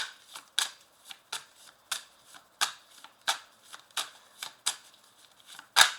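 Petit Lenormand cards are shuffled by hand in a quiet room, giving a series of about a dozen crisp, close riffling snaps at a steady rhythm, with no voice in between.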